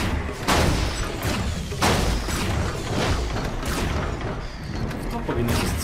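Cannons fire in LEGO Ninjago Movie Video Game, each shot a loud, booming thud, with several blasts spaced over a few seconds under a steady wash of game sound and a voice talking.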